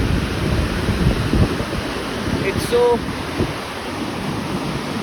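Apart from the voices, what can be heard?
ocean waves breaking on the shore at Vizag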